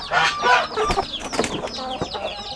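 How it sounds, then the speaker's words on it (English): Aseel rooster and yard chickens clucking close by, with a steady run of overlapping clucks and short calls. "that rooster right there is shaping up to be a really beautiful bird"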